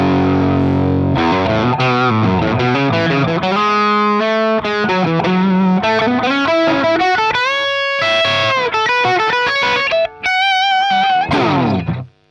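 Electric guitar played through a Marshall SV20H head with both controls up near three o'clock, giving a loud, crunchy classic rock tone of sustained chords and riffs that plays continuously and then cuts off at the end.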